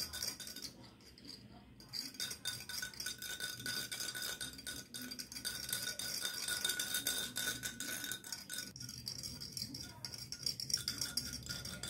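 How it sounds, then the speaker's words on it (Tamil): Curd and water are stirred together for buttermilk, producing continuous rattling, clinking scrapes of a utensil against a vessel, close and busy throughout. "இதை முதல்ல நல்லா மிக்ஸ் பண்ணிக்கணும்."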